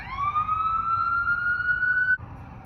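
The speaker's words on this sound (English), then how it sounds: "I've been hearing a lot of sirens these days" A single emergency siren wails in a long rising tone, fairly loud, then cuts off abruptly near the end.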